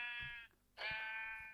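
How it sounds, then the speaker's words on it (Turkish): Two drawn-out sheep bleats in Minecraft, the second louder and longer, with a short gap between them and faint low thumps underneath. "Aa koyun."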